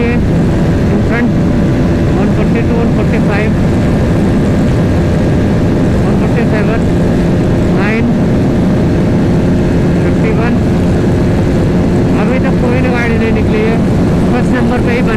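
A Yamaha R15, Bajaj Pulsar RS200 and Pulsar 220F race side by side at full throttle on the road, a loud, unbroken engine drone with heavy wind roar, and someone talks over it.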